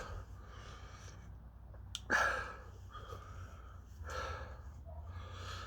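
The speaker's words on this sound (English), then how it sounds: "It's got me breathing heavy." Heavy, snorting breaths follow a bite of a hot Chocolate Primotalii pepper: one sharp gasping inhale stands out near the middle, with slower noisy exhales and sniffing around it, close to the microphone.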